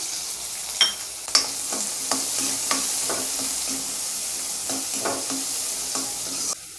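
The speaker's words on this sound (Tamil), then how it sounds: "அதே கடாயில் நம்ம இப்போ கொஞ்சோண்டு எண்ணெய் ஊற்றிக்கோங்க. ஒரே ஒரு வெங்காயம் அரிஞ்சு வச்சுருக்கோங்க, பெரிய வெங்காயம், அது போட்டுக்கலாம்" Sliced big onion frying in a little oil in a kadai, a constant bright sizzle with a few sharp utensil scrapes and taps near the start, steady throughout, then cut off abruptly near the end.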